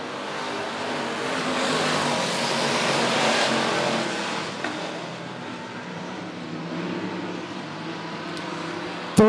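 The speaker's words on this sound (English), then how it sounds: "Three car battle for that second spot." Late model race cars at Monett Motor Speedway roar steadily around the track in a dense, continuous pack, engines droning loud and close without pause.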